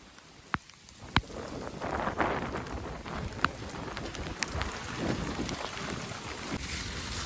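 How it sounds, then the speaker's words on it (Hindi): Heavy rain pours onto a brinjal field laid with mulching paper, a steady dense hiss broken by a few sharp, close drop impacts. No voices are heard. "अरे तेज बारिश आ गई"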